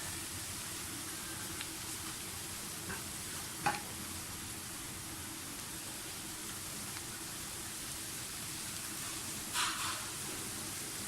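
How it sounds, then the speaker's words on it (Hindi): Onions fry in a pan for a mutton chops gravy, a soft, steady sizzle with an occasional scrape or clink of stirring, faint and without talk. "प्याज फ्राई हो गए।"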